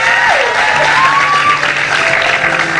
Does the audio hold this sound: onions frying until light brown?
no